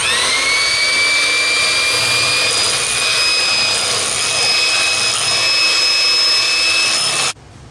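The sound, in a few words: hand mixer whipping passion fruit mousse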